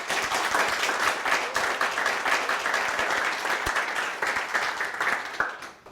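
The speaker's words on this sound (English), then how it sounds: "A round of applause for Karina Capescu." An audience at an evening screening event applauds a guest, a dense, steady round of clapping that holds for several seconds and then tapers off, ending with a few isolated claps.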